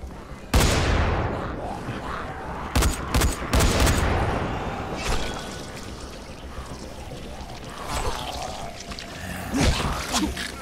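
Gunfire in the zombie game Dying Light during a co-op session, with several loud sharp shots in bursts near the start and scattered later bangs over a noisy, rumbling game soundscape.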